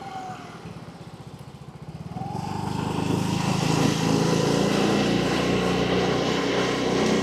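A motorcycle ridden home at night with its headlight off: the engine putters low, then swells into a louder, sustained run as the bike picks up speed.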